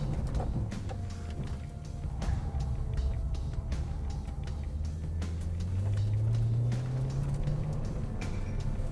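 A Nissan NISMO RS driven hard on a racing track, its engine droning steadily and close, rising in pitch toward the end as it accelerates, with sharp clicks and knocks scattered through.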